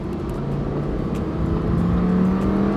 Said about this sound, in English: You gotta love the V10. It still sounds like a symphony.